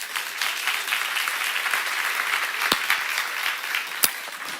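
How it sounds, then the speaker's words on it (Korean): Sustained applause from a church congregation during a sermon seminar, a steady wash of clapping with a couple of sharper claps standing out, no talking over it. "이해간 사람 박수 한번 쳐봐."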